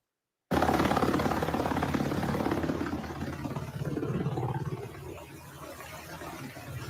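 Helicopter flying over Chicago during a night immigration raid by armed federal agents and police: a loud, continuous rotor and engine rumble with a throbbing low-end pulse, easing slightly toward the end.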